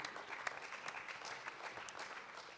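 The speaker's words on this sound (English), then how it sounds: "A round of applause to him." Applause for a panelist at a conference session on sports tourism in Qatar and California, a steady, moderately distant round of clapping that holds for the whole short span with no talk over it.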